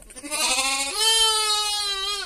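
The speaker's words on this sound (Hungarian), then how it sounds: "ez a kis fontos bárány, csak 2 napos" A two-day-old lamb lets out one long, wavering bleat that rises partway through, loud and close, with no other sounds around it.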